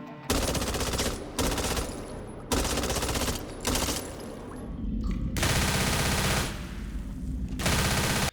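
Rapid bursts of automatic gunfire from the zombie shooter game Left 4 Dead 2 come in several loud, dense volleys separated by brief pauses, with game ambience between them.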